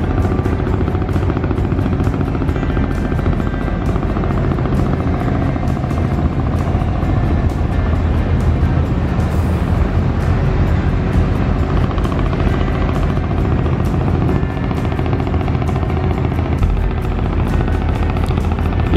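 Small local abra boat engine on Dubai Creek, a loud steady throbbing drone with a dense mechanical chatter running without a break from start to end.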